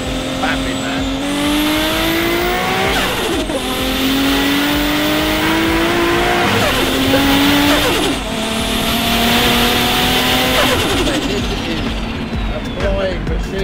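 A 2.8L stroker Nissan Skyline R32 GT-R accelerating hard, heard loud from inside the cabin. The engine note climbs steeply through the revs, with gear changes cutting in every few seconds.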